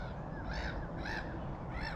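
Seagulls calling at a fishing lake, three faint cawing cries spaced evenly at a distance over a steady background hiss, no talk.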